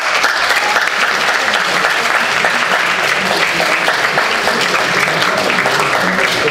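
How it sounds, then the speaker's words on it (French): A large audience claps steadily and loudly, a dense, even wash of applause that continues without pause. "j'aimerais qu'on applaudisse tous les membres du gouvernement"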